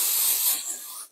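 A short, close hiss of spray adhesive is applied to fabric while sewing a pie crust cushion, then quickly fades away.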